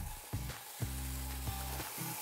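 Butter and pieces of cheddar sizzle faintly in a frying pan, a soft continuous crackle broken by a few light taps or stirs, with no voices.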